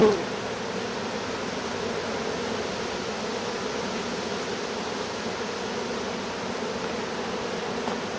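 Honey bees swarm and buzz around an open hive while a beekeeper works it with a smoker, a steady, dense insect drone that holds even and close for the whole stretch with no talking.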